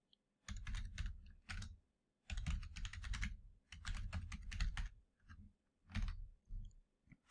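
Computer keyboard typing in bursts of rapid key clicks while entering AWeber account login information, with short pauses between the runs of keystrokes and no speech.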